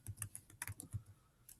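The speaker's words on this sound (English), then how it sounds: "type in Chrome" Quick keystrokes on a computer keyboard entering a search in a Chrome browser tab, a short irregular run of close, soft clicks with no talking.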